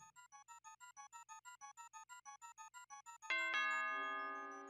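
Rapid repeating electronic ding-dong chime from the Mario Maker 2 video game, a steady train of about sixteen bright pulses, then a loud sustained ringing tone that slowly fades, with no talking.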